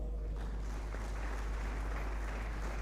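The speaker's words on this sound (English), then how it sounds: "Let's give our panelists another round of applause." An audience applauds panelists at a science event, a soft, continuous patter of clapping heard faintly under a strong low electrical hum.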